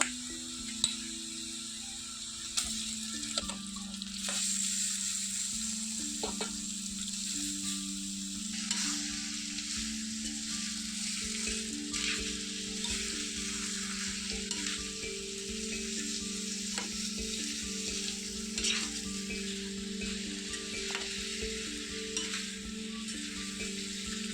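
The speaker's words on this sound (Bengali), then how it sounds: "এবার মেখে রাখা চিকেনটা দিয়ে দেব।" Marinated chicken and lightly browned onions sizzle steadily in a pan for chicken kalo bhuna, with close, intermittent scraping and clinking from stirring and a low hum underneath.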